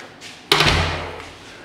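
A single heavy campsite shower-block door slam or thud in Lofer, Austria, close and loud, followed by a brief fading rattle.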